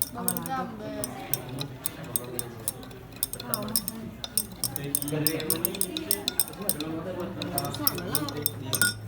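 A spoon stirring a drink in a glass, clinking rapidly and repeatedly against the sides, close and bright, while people chat over it throughout.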